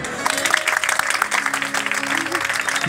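An audience claps at a live Punjabi stage show, with steady applause mixed under a singing or talking voice and a sustained tone.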